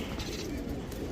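A giribaz high-flyer pigeon gives a short, soft coo nearby, low and faint against background noise.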